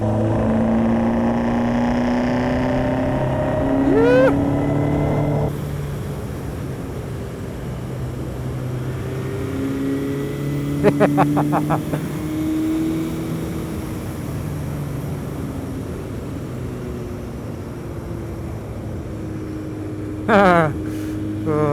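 A 1985 Suzuki GSX-R slabside streetfighter motorcycle with long gearing is ridden on a winding road, its engine droning steadily with rising and falling tones through gear changes, loud and close over wind rush.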